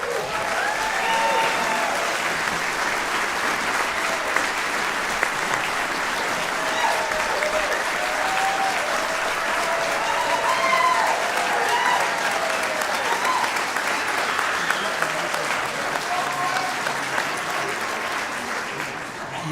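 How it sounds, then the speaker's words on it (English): Sustained applause from a sizeable audience at a donor event honoring a benefactor, dense and steady clapping that fills the room for a long stretch, with some crowd murmur mixed in. "You know you're applauding for money"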